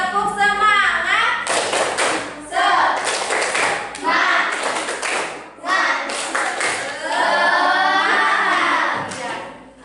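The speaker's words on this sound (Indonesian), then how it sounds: "Coba tepuk semangat dulu. Tepuk semangat." A classroom group of children performs a rhythmic 'tepuk semangat' clap chant, loud and continuous, with repeated patterned clapping mixed with chanted voices throughout.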